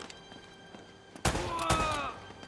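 A sudden, loud gunshot cracks out in the Uncharted video game, followed by a short burst of echoing, rumbling report that fades after about a second.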